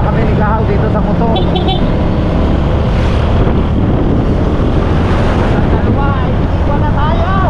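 Riding on a motorcycle, heavy wind buffeting roars over a steady engine drone, loud and continuous, with a person talking over the noise.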